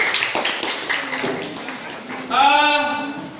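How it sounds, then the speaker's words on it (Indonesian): Classroom clapping for a student group during a teacher-training lesson, a burst of scattered claps mixed with chatter, followed by voices talking and calling out over the room. "Tepuk tangan untuk kelompok 1"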